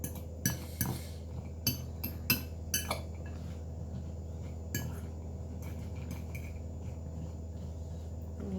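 Homemade parrot food is mixed in a bowl with a utensil, making a run of light clinks and knocks against the bowl in the first few seconds, then a quieter, softer mixing sound.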